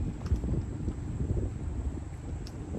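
Wind blows steadily outdoors in a strong, continuous rumbling buffet across the microphone, with gusty low roaring throughout and no voice heard.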